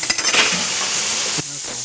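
A hot pan sizzles and hisses strongly, then drops abruptly to a softer bubbling fry partway through as liquid is added to deglaze.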